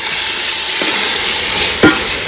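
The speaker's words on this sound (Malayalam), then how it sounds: "ഓക്കെ തക്കാളി ഇട്ട് വണക്കിക്കൊണ്ടിരിക്കുകയാണ് കൈ." Tomatoes sautéing in a pan for ghee rice with red chicken, a steady broadband sizzle with a couple of brief stirring scrapes near the end.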